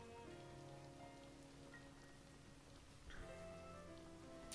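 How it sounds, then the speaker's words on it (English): Rain falling on a gondola ride through an Italian-styled city in Final Fantasy XV, a faint steady patter under quiet game music with a few louder sound effects. "On this rainy Italian day."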